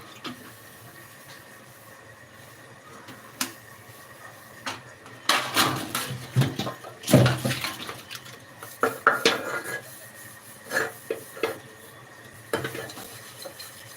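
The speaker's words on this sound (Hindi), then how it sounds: "बताओ हम कब से बर्तन धो रहे हैं" Pots, pans and metal utensils clatter and clank during dishwashing, starting quiet and sparse, then building into bursts of busy, close knocks and scrapes with short pauses between, with no voices.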